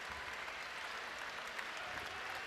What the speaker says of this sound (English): getting a well-deserved round of applause from the Rootstown fans who have made their way down